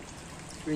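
Tamarind water being poured into a roasted-coconut curry, a brief soft trickling splash against a steady kitchen background, rising slightly in level at the very end.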